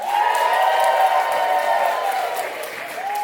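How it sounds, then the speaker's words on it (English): Loud, steady clapping and some cheers fill a New York comedy show as the audience votes by noise for a comedian to advance in a one-liner contest, fading slightly toward the end. "And please make some noise if the person you want to advance is Orly Matlow."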